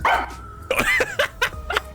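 A dog in the detective video game Master Detective Archives: Rain Code barks several times in quick, close succession, loud yips and bow-wows with brief pauses between them.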